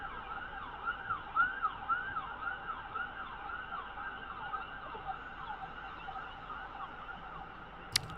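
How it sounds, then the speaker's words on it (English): Faint wailing emergency vehicle sirens sweep up and down repeatedly in the distance, steady and continuous against quiet background noise. "I hear some sirens in the background."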